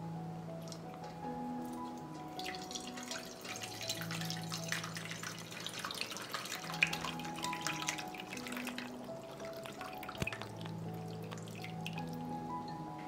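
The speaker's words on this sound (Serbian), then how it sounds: "Čaj se prohladio i sada ću ga procediti." Cooled chamomile tea poured through a strainer gives a soft, close trickle and drips against quiet tonal music, with no talk.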